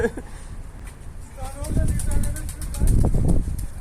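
Pigeons flap their wings and coo nearby in a short outdoor burst, with people talking over them.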